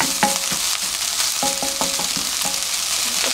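Sliced onions fry in a pan and are pressed down to brown, a steady close sizzle running throughout with scattered spatula scrapes and taps on the pan.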